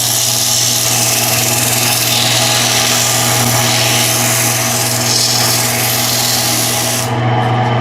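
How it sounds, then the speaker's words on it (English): Sandpaper rubbing steadily over a burnt, torched wooden bowl, likely spinning on a lathe, producing a loud continuous abrasive hiss with a steady low motor hum underneath, no talking. "Let's start the sanding process over."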